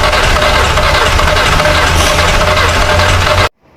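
A Volkswagen Vento that won't start cranks after an oil change, a steady mechanical churning with a knocking texture that runs for a few seconds and then cuts off abruptly.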